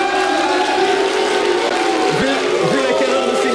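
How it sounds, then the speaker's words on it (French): A studio audience applauds on a French television general-knowledge quiz show. It is a steady, dense wash of clapping and crowd noise throughout, with a voice speaking over it toward the end. "on peut les féliciter quand même et les applaudir"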